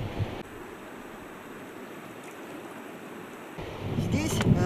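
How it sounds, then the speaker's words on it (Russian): River water on the Sobolokh flows past during rafting, a steady broad rush with wind buffeting the microphone, growing louder and more turbulent near the end. "Я начинаю сплав по реке Соболох."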